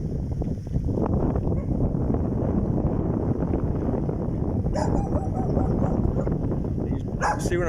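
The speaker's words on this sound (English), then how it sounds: "See what I'm talking about? The barking dogs." Dogs barking in a neighborhood near Frigate Bay, St. Kitts, heard from a distance through steady wind rush and outdoor noise, with a few sharper barks near the end.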